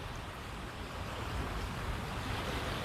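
Wind moves through small tree branches outdoors, a soft, steady broadband rush with no distinct gusts, faint and continuous without any voices.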